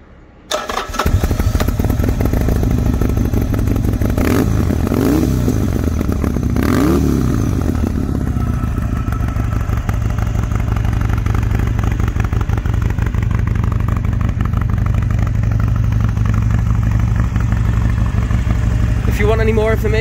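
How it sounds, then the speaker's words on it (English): Harley-Davidson XR1200 motorcycle with a 2-into-1 REMUS exhaust, its V-twin engine firing up and then running loud and steady close by for the whole stretch, with a couple of revs early on and a rough throbbing idle. "The 2-into-1 REMUS pipe, which sounds unbelievable"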